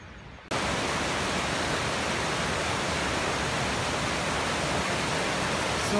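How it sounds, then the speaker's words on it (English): Mountain snowmelt rushing down as a waterfall stream in the Marble Mountains near Log Lake: a loud, steady, close roar of churning water that swells in after a brief quieter moment and holds without a break, with no voices. "So much water coming out of the mountains."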